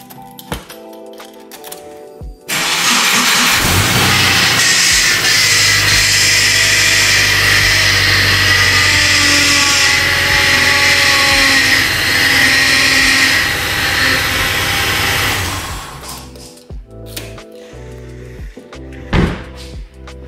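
A Subaru WRX STI with a power steering fault starts and runs for about thirteen seconds, a loud broadband engine drone with steady whining tones, then cuts off to quieter knocks.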